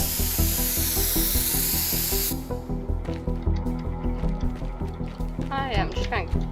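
Spray can hissing in the Teardown video game, a loud steady hiss for about two seconds that cuts off abruptly, followed by rhythmic looping game music and brief squeaky effects.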